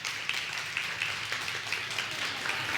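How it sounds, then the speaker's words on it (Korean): Applause from an audience at a gathering welcoming a high school earth science teacher, a soft, steady wash of clapping heard from some distance, even and continuous throughout. "박수로 한번 초대해 주시죠"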